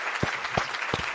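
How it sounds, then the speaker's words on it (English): Brief round of applause from a small group, a few sparse nearby claps over a steady background hiss. "Round of applause."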